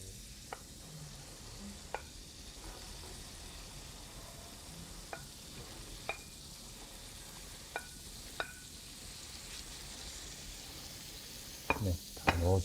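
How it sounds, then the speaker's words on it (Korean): Meat and vegetables stir-frying in a frying pan for bibimbap, giving a soft steady sizzle broken by occasional light clicks of a utensil against the pan, ending in a brief clatter. "자, 이제 고기가 어느 정도 볶아진 것 같으면 야채를 넣어주도록 할게요."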